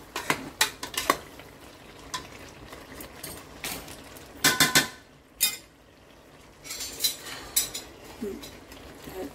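A spoon scrapes and clinks against a pot while green chicken curry with coriander is stirred, the irregular metallic taps and knocks coming in short clusters with quiet gaps between.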